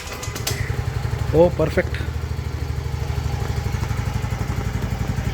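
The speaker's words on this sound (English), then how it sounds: "I will not give the starter, I will kick start for the beginning." A Yamaha RayZR 125cc Fi scooter engine, just kick-started, idles with a steady near putter and light clatter; a brief rev swells early and a short spoken remark is heard over it.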